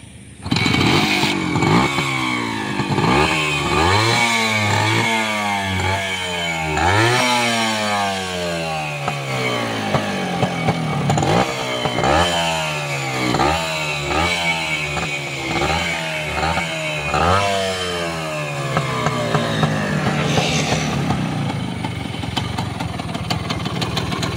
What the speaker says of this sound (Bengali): বাইকটি আপনাদেরকে আমরা স্টার্ট করে দেখাবো। সাউন্ড কন্ডিশন দেখবেন আপনারা